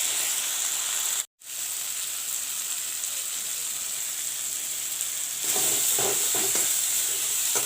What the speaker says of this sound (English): I will let the tomato cook